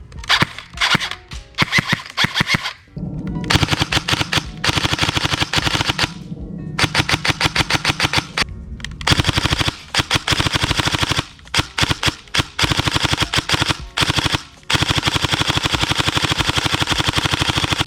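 A G&G SSG1 airsoft gun fires in rapid bursts and quick single shots, the sharp mechanical clatter close and loud, broken by brief pauses and running with no talk.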